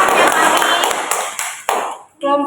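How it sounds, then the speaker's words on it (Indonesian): Clapping from a classroom of students applauding group 1 during a biology teaching practice lesson, a dense burst of claps with sharp individual hits that thins out and stops after about two seconds, with voices mixed in. "Beri aplaus untuk kelompok 1"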